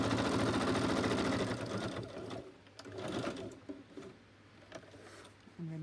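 A sewing machine runs in fast continuous bursts as it stitches down fabric elements, close and steady, then pauses briefly before starting up again.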